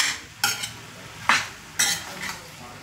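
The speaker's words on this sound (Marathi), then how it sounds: "आता हे पूर्ण मिक्स करून घेऊया आपण" A spoon scrapes and clanks against a pan while the vegetable filling for a cheese masala dosa is mixed, three distinct stirring strokes over a faint sizzle.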